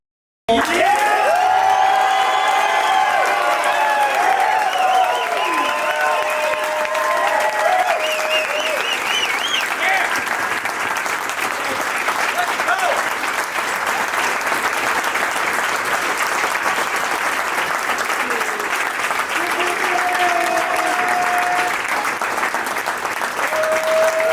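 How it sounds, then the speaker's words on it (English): A company awards audience gives a loud, sustained round of applause with scattered cheers and whoops, steady clapping filling the space throughout. "I want to give one more thunderous Context Media round of applause."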